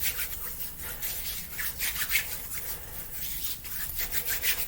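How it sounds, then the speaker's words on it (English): Hands rub hand sanitizer together in a clean room, producing a steady, close, continuous friction rustle that swells and eases slightly without pause, with no talking. "I'm going to apply my hand sanitizer here onto my hands, rubbing that there."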